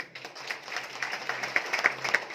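An audience at a Shirdi celebration gives a short round of steady applause, moderately loud and continuous, with a few sharper claps standing out near the end.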